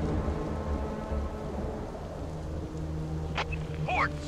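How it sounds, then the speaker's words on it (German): A steady, dense wash of rain and low thunderstorm rumble plays in the zombie strategy game Infection Free Zone, with the weather set over Puerto de la Cruz. A brief voice-like sound breaks in near the end. "Gewitter."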